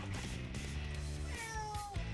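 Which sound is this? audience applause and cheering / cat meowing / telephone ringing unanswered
cat meowing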